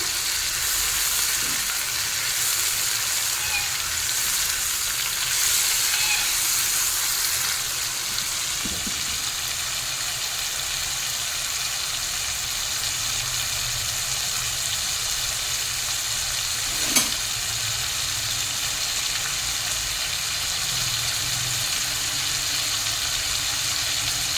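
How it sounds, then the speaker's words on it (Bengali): Prawns frying in a pan over a high flame with a pinch of salt, a continuous bright sizzle heard up close for a long stretch, with occasional soft stirring clicks and no talking. "চিংড়ি মাছ খুব বেশি ভাজবো না"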